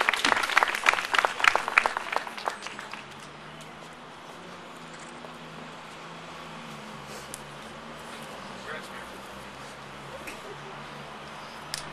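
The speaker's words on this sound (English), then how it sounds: "give yourselves a round of applause with the 70 shirts on" Brief clapping from an audience for a few seconds, fading quickly into a steady murmur of room noise.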